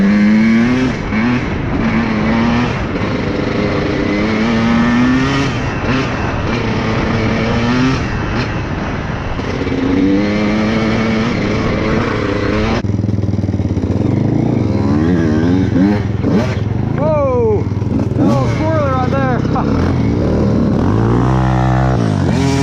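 A Honda CR125 two-stroke dirt bike and a 400EX quad ride a backyard dirt track, engines revving and rising and falling in pitch continuously and loudly, the tone shifting midway as one machine passes close.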